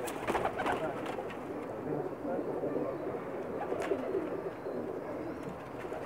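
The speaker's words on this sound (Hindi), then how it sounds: "ब्यूटीफुल चैम्पियन कबूतर हैं जी ये सब के सब।" Champion Pakistani pigeons coo together on a rooftop in Mecca, a steady layered stream of low throaty calls, close and fairly loud, with a little faint background chatter.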